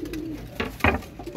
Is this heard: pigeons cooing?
yes